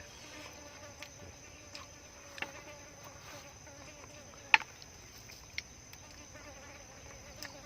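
A housefly buzzes faintly but steadily through a quiet indoor scene during a meal of crispy pork and kale over rice, with a few soft clicks and taps rising above the hum.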